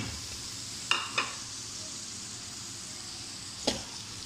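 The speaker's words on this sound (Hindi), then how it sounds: "इसमें हमने थोड़ा सा घी और डाला। अब इसमें हम प्याज फ्राई करेंगे।" Onions frying in ghee in a pan sizzle in a soft, continuous hiss, with a few brief scrapes and stirring clicks over the top and no talking.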